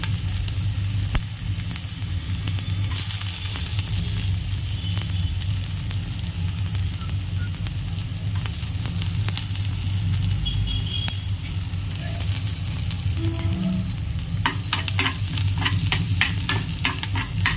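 Chopped ginger and garlic frying in a pan make a steady, close sizzle with ongoing stirring scrapes, and a run of quick ticking spatters comes near the end.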